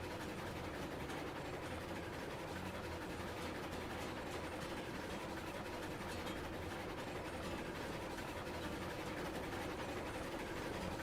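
A steady, continuous rumble of a train rolling along, even and unbroken for the whole stretch, with no voices.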